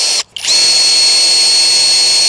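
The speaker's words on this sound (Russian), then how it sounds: "Вот у нас саморез, шуруповерт. Пробуем." A cordless drill-driver drives a 220 mm self-tapping screw into wood, its motor whining loud and steady after a brief stop and restart near the beginning, with no one talking.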